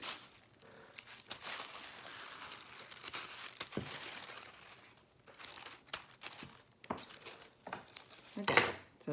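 Scissors cutting apart connected craft pieces for a Dollar Tree Valentine's Day project, with close rustling, crinkling and snipping in uneven bursts, no talking.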